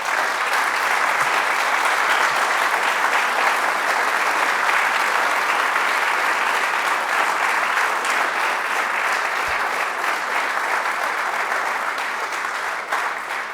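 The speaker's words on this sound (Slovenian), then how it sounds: "da jih še enkrat nagradimo z gromkim aplavzom" Loud, sustained applause rolls through a concert hall for a dance troupe at an annual choir concert, a thick, unbroken wall of clapping from a large audience.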